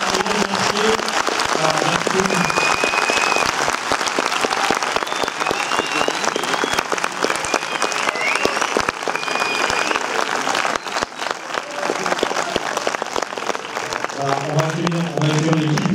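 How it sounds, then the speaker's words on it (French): A cinema audience at a film premiere applauds steadily and loudly, sustained dense clapping from a full theatre, with a host's voice speaking briefly at the start and again near the end. "Donc, on peut les applaudir."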